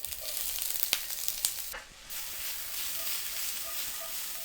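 Onions hit hot oil in a pan with a bright, steady sizzle, a few sharp clicks early on and a brief dip before the hiss settles back in, close up with no voices.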